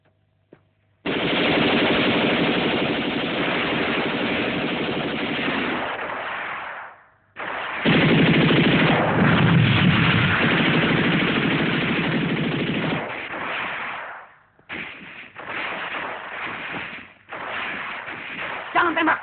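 Sustained bursts of machine-gun fire from a war film about the G30S PKI events, loud rapid rattling volleys that stop briefly and resume in shorter bursts, with talking faintly mixed in.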